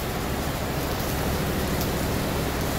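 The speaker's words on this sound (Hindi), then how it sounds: "बारिश भी आ गई" Rain falling outdoors while the sun is shining, a dense steady hiss of drops that fills the scene evenly and loudly from start to end, with no voices.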